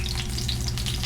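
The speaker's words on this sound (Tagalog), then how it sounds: "Prito lang natin, prito. Simpleng prito lang." Vegetables fry in hot oil in a home kitchen, a steady, dense sizzle with crackling spatters from water in the pan, loud and close with no voices.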